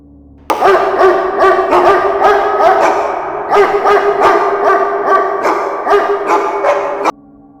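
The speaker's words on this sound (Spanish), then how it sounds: "hasta que los perros comenzaron a ladrar" Several dogs barking in rapid, repeated bursts, loud and close, a steady chorus of yaps and bow-wows for about six seconds before cutting off abruptly.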